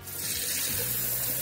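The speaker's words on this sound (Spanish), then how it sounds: "Agregamos 400 ml de agua. Lo vaciamos en una caldera, tetera o como lo quieran llamar." Water pouring into a kettle while making instant peanut soup, a steady loud rushing, splashing stream close by with no talk.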